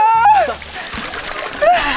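Ice water splashes and sloshes as it is poured into an ice tub, with a burst of splashing at the start and again near the end, while young voices talk and shout over it.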